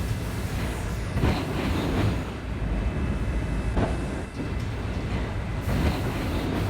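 An R38 subway train on an A run in a video game, rumbling steadily with dense low roar, faint rhythmic wheel clatter and brief hissing swells, continuous and close.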